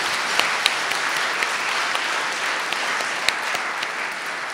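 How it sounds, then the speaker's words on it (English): An audience at an outstanding achievement award ceremony at the Bangladesh High Commission in London gives a sustained round of applause for student award recipients, steady and even with a few sharper individual claps standing out. "Big clap to that"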